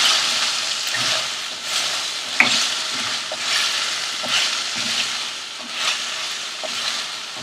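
Drumstick and potato pieces are tossed and mixed in a hot kadai, giving a steady sizzle of frying with repeated scraping and stirring clatters, close and continuous.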